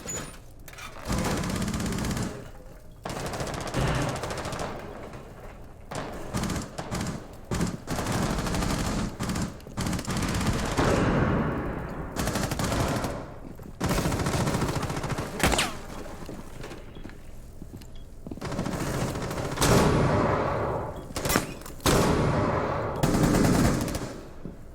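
Gunfire in the tactical shooter Rainbow Six Siege, with repeated bursts of rapid automatic fire and single shots spread throughout, loud and close, separated by brief pauses.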